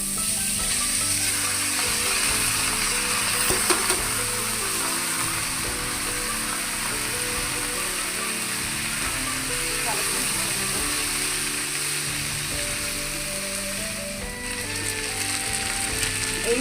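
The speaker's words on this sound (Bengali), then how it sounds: "ফ্রায়েড রাইস কিন্তু ভালো করে ভাজি করতে হবে অন্তত পাঁচ থেকে সাত মিনিট" Leftover cooked rice fries in a pan for fried rice, making a steady, close sizzle with scraping and stirring noises, while someone talks over it.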